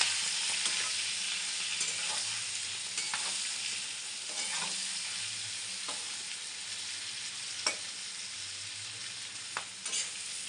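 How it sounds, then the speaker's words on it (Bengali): Continuous sizzling from prawns frying in oil, with scattered spatula clicks and stirring scrapes over about ten seconds, close by and with no voices. "চিংড়ি মাছটা ভেজে নেব"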